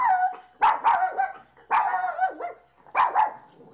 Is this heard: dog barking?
yes